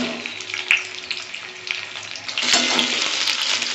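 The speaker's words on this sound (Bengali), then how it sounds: "এবার আমি আলুগুলো ভেজে নেব" Potatoes cut into large chunks fry in oil in a pan, a steady close sizzle that grows louder and fuller partway through, with occasional clinks and stirring.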